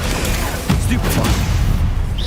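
A Stupefy spell is cast in Hogwarts Legacy: a short burst of booming, blast-like game impact sound lasting a couple of seconds, with a voice calling out over it.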